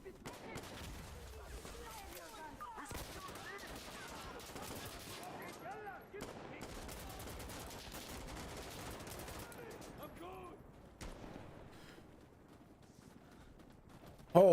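Rapid automatic gunfire from the video game Black Ops rattles almost continuously in dense bursts, loud and close, with a player's voice talking over much of it.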